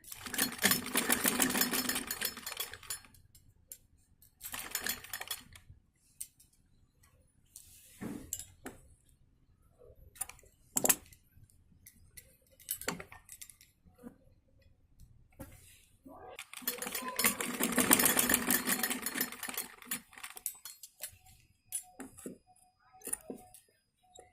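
A sewing machine stitching a kameez kurti whirs in a few fast bursts, the longest at the start and near the end, separated by quiet gaps with clicks and small metallic clinks.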